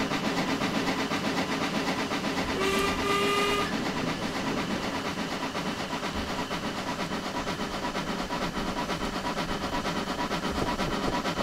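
A steam locomotive on the Isle of Wight steam railway in Train Simulator Classic, the Terrier 150, rumbles and chuffs steadily throughout, with one short whistle blast early on.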